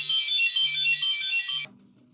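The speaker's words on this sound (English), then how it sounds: "The confirmation of the ringing phone" An electronic phone ringtone trills steadily, loud and close, with a low repeating pulse beneath it, then cuts off abruptly after about a second and a half, leaving only a faint low hum.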